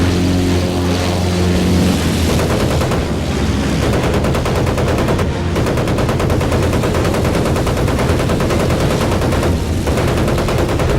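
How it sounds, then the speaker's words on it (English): Loud, continuous machine-gun fire in the WWII shooter Battlefield 1943 as a plane tails and shoots down an air raid bomber. Rapid rounds run without a break over a steady aircraft engine drone, with no speech. "you can see me tailing an air raiding bomber, shooting one down."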